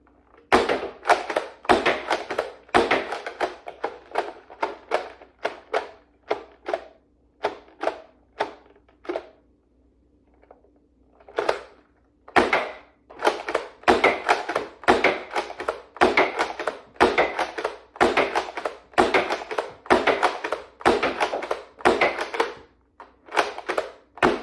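Foam half-length X-Shot darts pushed one by one into a Dart Zone drum magazine, giving a steady run of close, crisp plastic taps and clicks with a brief pause midway and no talking.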